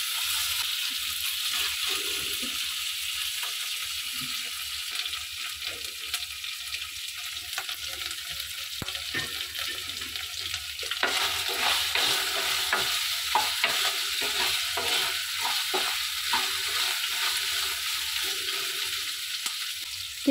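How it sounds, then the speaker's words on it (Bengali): Cumin paste sautéing in a pan while it is stirred, a continuous soft sizzle with frequent scraping and stirring strokes, growing a little louder toward the end. "জিরে বাটাটা দিয়ে বেশ কিছুক্ষণ কষিয়ে নেব"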